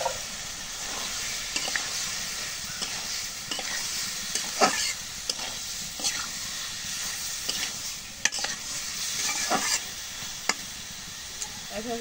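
Soya chunks are stirred and fried in a cooked spice masala, giving a steady close sizzle with repeated scraping stirs and clicks of the spatula against the pan, with no voices.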